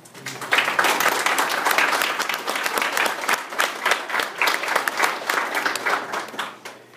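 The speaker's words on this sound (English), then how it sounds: "need to give them a round of applause for" Audience applause for young artists whose work was jury-selected for a gallery exhibit, a dense sustained clapping from a room full of people that stays loud throughout and tapers slightly at the end.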